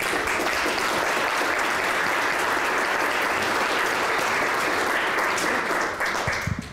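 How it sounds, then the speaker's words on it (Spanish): Sustained audience applause at a book presentation held at Mexico's Fototeca Nacional, dense and steady throughout, tapering slightly near the end. "Vamos a darle un aplauso."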